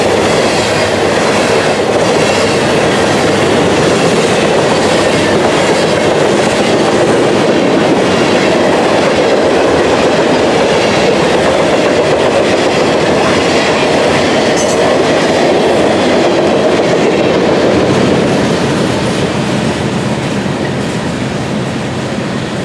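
Freight train 19M, led by an SD70ACe locomotive, rolls past in central Ohio with a loud, steady rumble and rhythmic clatter of railcars that holds for the whole stretch and eases slightly near the end.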